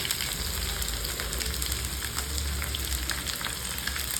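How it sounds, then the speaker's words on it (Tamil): Chopped onions sauté in hot oil for a sundakkai kara kuzhambu, a Tamil turkey-berry curry. A dense, even sizzle crackles steadily and close by throughout. "நல்லா வெங்காயம் வதங்கிடுச்சு"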